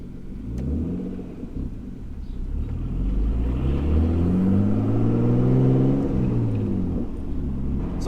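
A Nissan R34 Skyline on a test drive with the windows down, its engine rumbling steadily and rising in pitch as it accelerates, with wind and road noise mixed in from inside the cabin.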